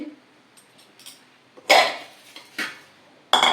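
Roasted paddy puffs (nel pori) poured from a hot pan into a vessel in a home kitchen, heard as three or four short, crisp rustling bursts with quiet gaps, close by and with no talk.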